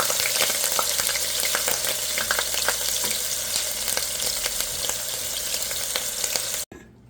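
Garlic paste and ginger paste frying in about one and a half spoons of hot oil, a dense, loud, crackling sizzle with quick stirring scrapes throughout, cutting off abruptly just before the end.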